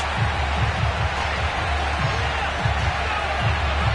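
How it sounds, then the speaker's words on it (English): A sellout stadium crowd roars through a continuous broad wash of cheering at a Falcons versus Tampa Bay Buccaneers NFL football game, loud and sustained, with a deep rumble underneath. "Somehow this place got even louder a short time ago as the Falcons were introduced to this sellout crowd"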